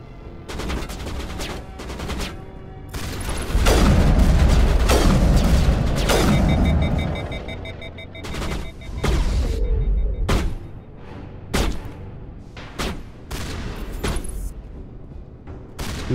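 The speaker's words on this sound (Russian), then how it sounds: "Мощные какие-то пушки." Heavy weapon fire from the video game Mass Effect rattles in repeated bursts, with booming impacts and mechanical clatter near the start and spaced single shots cracking out toward the end.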